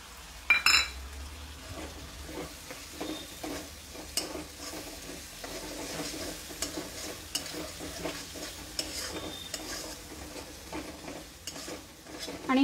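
Chopped tomatoes with amchur (dried mango) powder sautéing in a pan, a soft continuous sizzle broken by repeated scraping and clinking stirring strokes, close and fairly quiet, no talking.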